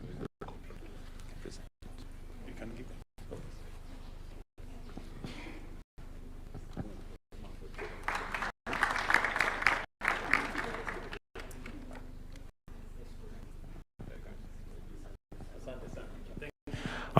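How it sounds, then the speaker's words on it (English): Crowd applause at a Kenyan government event swells briefly in the middle, with voices talking before and after it. "Give them a round of applause."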